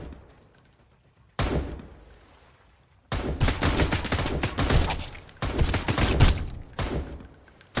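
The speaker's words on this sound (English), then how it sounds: "They're shooting from 2 directions." Enemy gunfire in the survival game Sunkenland: loud, sharp volleys of rapid shots in several clustered bursts, separated by brief quieter gaps, close and forceful with little talk over them.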